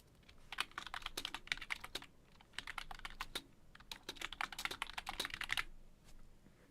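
Typing on a computer keyboard during a cozy livestream: bursts of rapid, close keystrokes come in several runs with brief pauses between them, and no one speaks.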